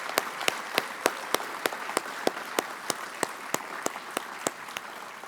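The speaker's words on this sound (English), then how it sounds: "Can I have another round of applause?" A round of applause at a women's awards event, a small group clapping in sharp, fairly regular strokes, modest in volume and steady across the whole stretch.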